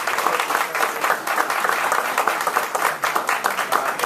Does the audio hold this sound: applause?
yes